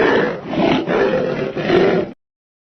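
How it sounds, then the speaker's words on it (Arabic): A lion gives one loud, sustained roar of about two seconds that swells and pulses, heard close and alone before it cuts off into silence. "أسد."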